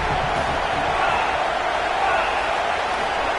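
Broad, steady stadium crowd roar from an American football video game fills the clip, a constant wash of noise under a commentator's voice.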